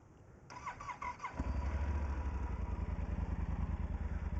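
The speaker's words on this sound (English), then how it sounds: "So that's what the bike sounds like." A motorcycle with its stock exhaust pipe starts up with a brief whirring crank, then settles into a steady, throbbing idle recorded close by, with no talking.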